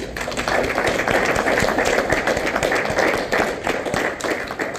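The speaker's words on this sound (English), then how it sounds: "So I think he deserves a round of applause for that." A round of applause at a meeting, many hands clapping in a dense, steady burst that holds for several seconds before tapering off slightly.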